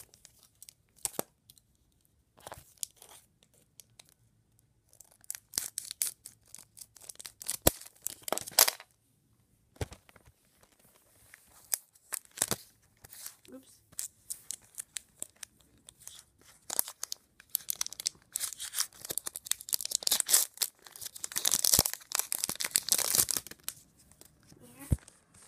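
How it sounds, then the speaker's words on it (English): Scissors snip and tear through a crinkly foil Pokémon card pack, with sharp bursts of cutting and crackling scattered across the clip, busier toward the end. "I got some scissors to open that pack up."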